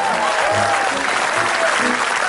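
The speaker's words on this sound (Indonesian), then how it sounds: "Terima kasih tepuk tangannya" Studio audience clapping for a television game show host, a short, loud burst of continuous applause with faint music or voice tones underneath.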